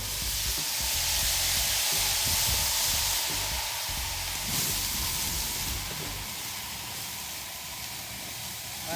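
A steady, broad hiss of steam rises from an onion volcano on a teppanyaki griddle where chicken and scallops are cooking, continuous and moderately loud with faint clatter underneath.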